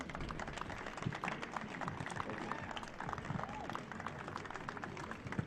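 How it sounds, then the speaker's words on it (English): Crowd applause for the players' parents at the MLS NEXT Cup U17 Homegrown Final between Orlando City and Atlanta United, a steady wash of clapping and crowd noise that runs throughout without pause. "Everyone, a big round of applause for the parents of both teams."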